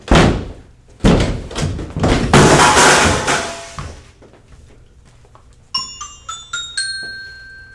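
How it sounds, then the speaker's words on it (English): In a radio drama effect, a door being broken in takes heavy, loud thuds and splintering crashes, then a few ringing metallic chimes. "Come on, Watson, help me break in the door."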